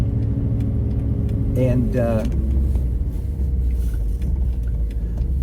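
A 1971 Mercedes 280SE 3.5 Cabriolet cruises along the road with a steady low engine and tire rumble, close and continuous, as someone talks briefly over it.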